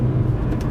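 Mercedes A45 AMG on the road, a steady low engine and tyre drone heard from inside the car, brief and even in level.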